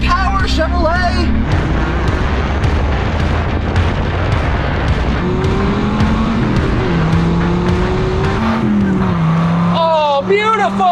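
A Dodge Viper and a C4 Chevy Corvette ZR-1 drag race side by side, engines roaring loudly at full throttle and rising through the gears, under excited commentary from a man.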